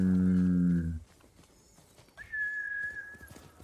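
A deep, drawn-out horse call in Ghost of Tsushima, then a pause and a sustained whistled call over quiet game ambience.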